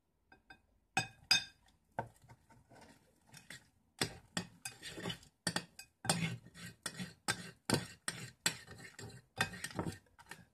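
A homemade slime mixture with a little laundry detergent being stirred in a container, heard as close, irregular clinks, taps and scrapes in quick succession with brief pauses between them.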